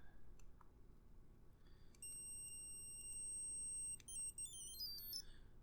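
Bright electronic beeps and tones from a handheld arcade playing Q*bert, a loud chiptune melody of sustained pitched notes over a background hiss.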